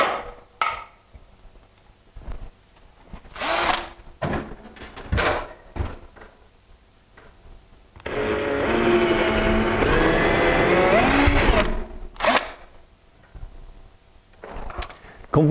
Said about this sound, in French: Maintenant, il suffit que je perce.